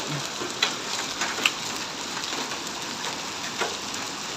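Hail pelts down hard in Saudi Arabia, a dense, steady, close patter of ice pellets hitting surfaces, with a few sharper individual impacts standing out.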